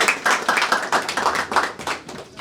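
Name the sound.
audience applause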